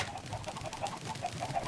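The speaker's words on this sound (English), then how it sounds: "This is where the children, the chicken," Chickens in the Minecraft video game cluck in a steady, repeated stream of short game-audio calls, moderately loud throughout.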